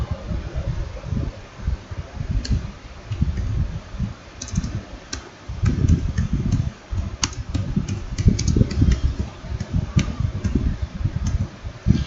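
Typing on a computer keyboard while writing Python code, scattered clicks and short bursts of keystrokes over a steady low fan hum, close and fairly quiet, no voices.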